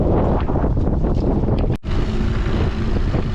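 Strong gale wind roaring and buffeting the microphone while riding in a small boat tender, with engine and water rush underneath and a brief dropout midway.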